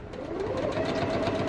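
A quilting machine used on a quilt restoration runs at a fast pace, giving a steady close mechanical whir with rapid rhythmic stitching pulses for a second and a half.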